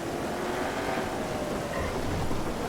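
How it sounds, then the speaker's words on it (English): Steady rain in a GTA roleplay game world, a constant broadband hiss of falling water with a low rumble beneath, even and unbroken throughout with no voices. "This is the first time I'm seeing the rain, and it actually feels like real rain."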